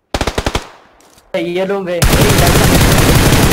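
PUBG PC Lite gunfire in a squad fight, a fast burst of close automatic shots, then a short tonal effect, then a dense, loud continuous rattle of fire, with someone speaking briefly.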